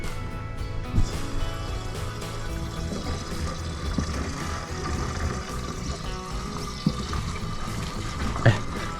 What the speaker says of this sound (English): Hey Reese, fill up our tanks. That's it, fresh water.